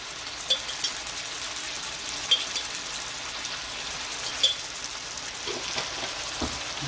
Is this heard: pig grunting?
no